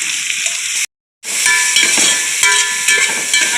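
Whole spices sizzle loudly in hot oil for chicken biryani, a steady close frying hiss broken by a brief silent gap before resuming with faint stirring clicks.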